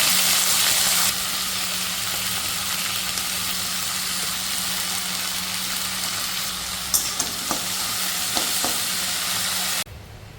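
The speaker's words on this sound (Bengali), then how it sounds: "এদিকে আমি ভেন্ডি, আলু আর কাঁকরোল ছিল, এগুলোকে একটু ভাজা বানাবো।" Okra, potato and pointed gourd fry in hot oil with a green chilli, giving a loud, continuous close-up sizzle with a few light clicks and stirring knocks, until it stops abruptly near the end.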